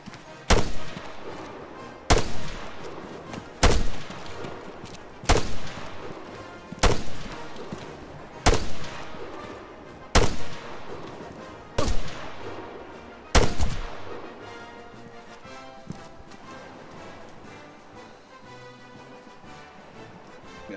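Less-than-lethal police gunfire in a video game, eight or nine sharp single shots spaced about a second and a half apart with short echoing tails, fairly close, followed by a quieter ambient stretch.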